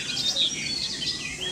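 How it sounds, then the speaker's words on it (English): A reed warbler sings a rich, varied run of high chirping phrases, fairly close and continuous, with no voices present. "This reed warbler has a rich and varied song consisting of a series of melodious phrases often mimicking other bird species."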